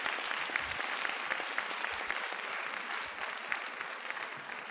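Sustained applause from an audience after a talk by speaker Monica on health equity and reproductive justice: dense, steady clapping of a large crowd, fairly close and even in level throughout, with no voices standing out.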